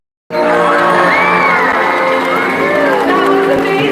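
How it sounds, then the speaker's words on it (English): A stadium crowd at SeaWorld cheers and whoops loudly and steadily after a killer whale's big jump, a dense wall of voices with children shouting. "let's give her a big cheer!"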